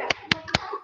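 A group of women in a school training session doing a rhythmic 'tepuk semangat' clap, three sharp, close hand claps spaced evenly.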